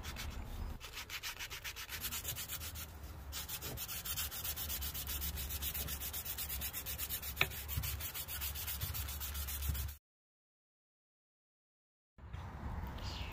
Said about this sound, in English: Trying to sand things as even as possible.